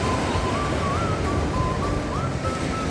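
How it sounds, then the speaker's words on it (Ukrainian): Sea waves break on an Odesa beach in winter with a constant, loud roar of surf and wind buffeting the microphone. The sound holds steady throughout, with no voices. "хвилі, напевно, заважають йому, ну, відбивають сильно"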